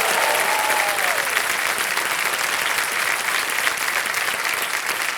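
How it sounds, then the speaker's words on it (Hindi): A studio audience on the KBC game show claps loudly and continuously, a dense, even roar of applause filling the whole stretch with a brief tonal sweep early on. "तालियां बजती रहे इनके लिए"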